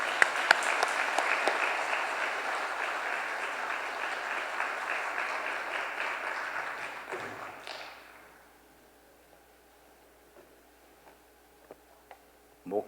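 A church congregation gives sustained applause of thanks at the close of a special guest lecture during a worship service. The dense clapping lasts about seven seconds, then fades into near silence with a few faint taps.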